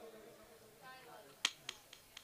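A few sharp hand claps during a Marathi kirtan performance: one loud crack, then three or four lighter claps spaced unevenly, with faint background voices beforehand.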